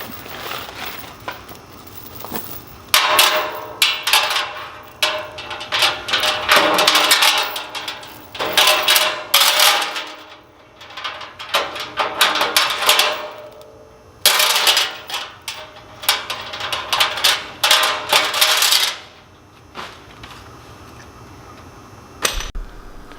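Chains being fitted onto a Harbor Freight MIG welding cart during assembly, giving bursts of metallic rattling and clinking in irregular clusters, fairly close, with short pauses between handling and no talking.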